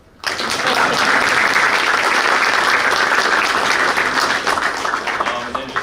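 Loud, sustained applause from an audience at a boys' varsity basketball banquet, starting abruptly and holding steady for several seconds with dense clapping and some cheering mixed in.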